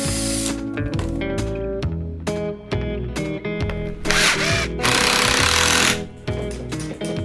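A power drill bores pocket holes for joinery in a wooden bench piece, with loud bursts of whining motor and a rattling, chattering bit in short runs and a couple of longer, rougher drilling stretches.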